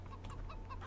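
Chickens in the video game Farming Simulator 2015 cluck in soft, short bursts over a low steady hum, close and faint, with no speech.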